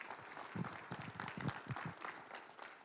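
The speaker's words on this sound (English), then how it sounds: "a big round of applause for Alessandro one more time, please" Faint audience applause at a student athlete's university signing ceremony, a brief scattered patter of clapping from a small crowd, heard quietly and from a distance.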